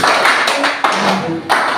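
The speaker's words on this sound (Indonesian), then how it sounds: "tepuk tangan kepada" A handful of sharp, close claps ring out in a classroom lesson, spaced unevenly over less than two seconds.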